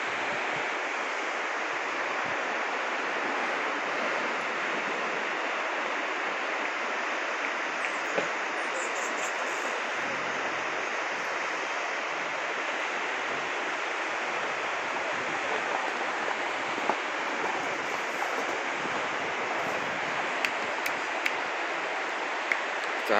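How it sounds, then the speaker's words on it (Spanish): The Rio Bueno rushes out of Lago Ranco in southern Chile with a loud, steady broadband roar of flowing water that holds unchanged for the whole stretch, close and constant. "Miren el río"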